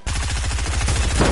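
Rapid automatic gunfire from a video game, a loud close burst of evenly spaced shots lasting about a second, with no talking.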